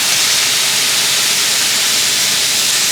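Brine poured into a hot pan sizzles with a steady, dense hiss that holds evenly throughout, close and fairly loud with no talking.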